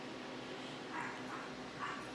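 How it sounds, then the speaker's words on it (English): Several big dogs bark at a distance in short bursts, faint against steady indoor background noise, with no talking. "Big dogs are barking."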